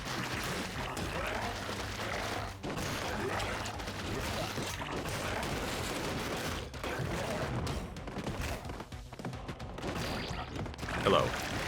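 Rapid bullet fire from the action game ScourgeBringer rattles on continuously in dense, crackling bursts alongside busy game effects, with a voice talking over it.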